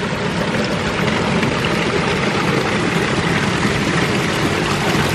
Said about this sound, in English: My little tributary fall on the side is almost completely iced up with water moving aggressively underneath it.